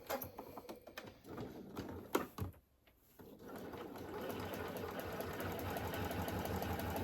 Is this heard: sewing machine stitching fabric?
yes